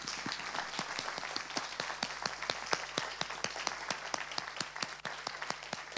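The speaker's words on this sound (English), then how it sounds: "I think you deserve a massive applause" Audience applause after an architecture presentation: a small group claps in a steady, fairly close patter of distinct hand claps that continues for several seconds without speech.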